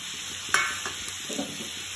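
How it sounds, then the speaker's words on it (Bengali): Potato pieces fry with onion and spices in a pan for a chicken curry, giving a continuous close sizzle with a few soft stirring scrapes and clinks. "মশলাটা কষাতে কষাতে মশলার সাথে আমরা দিয়ে দেবো এই আলুটাকে।"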